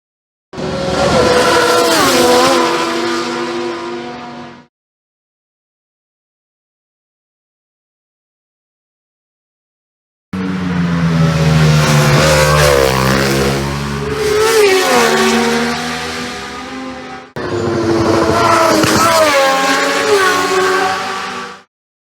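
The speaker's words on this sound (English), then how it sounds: "here we can see Michael on Superbike and Supersport bikes in a sunny opening session" Superbike and Supersport racing motorcycles on the Isle of Man TT course in a sunny opening session, loud engines screaming past at full revs in three separate bursts with a long silent gap after the first.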